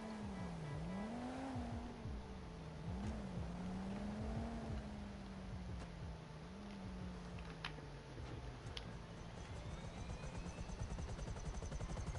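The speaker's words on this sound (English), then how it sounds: "you hop into that helicopter." Buzzard helicopter in the video game GTA Online, its engine and rotor droning steadily at close range throughout, with a wavering low tone that rises and falls as it flies.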